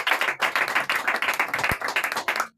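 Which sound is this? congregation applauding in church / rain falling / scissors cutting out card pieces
congregation applauding in church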